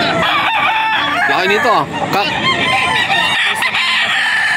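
A young stag rooster of farm breed crows loudly and close by, a long strained call with clucking from other fowl around it and someone speaking briefly.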